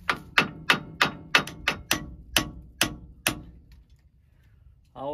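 Nine sharp metallic hammer strikes on a pin of a John Deere 9500 combine under repair ring out in a quick, slightly uneven rhythm, each decaying briefly, followed by quiet and a short voice at the end.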